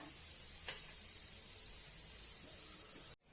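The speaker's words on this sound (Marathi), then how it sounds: "आता आपण हे सगळं छान असं परतून घेऊया कांदा चांगला गुलाबी रंगावर परतून घेऊया" Onion sizzling in a pan for a home-style dry yellow potato curry, a steady close hiss with a brief sharper spit early on, then cutting off abruptly near the end.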